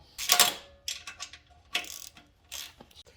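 A hand ratchet snugs bolts on a 1998 Yamaha Warrior 350 ATV, clicking close and quiet in four short rapid bursts separated by pauses.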